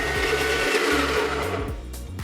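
A Breville Smart Grinder Pro electric coffee grinder grinding beans, a steady loud close motor whir with a low rhythmic pulsing as it works, no talking.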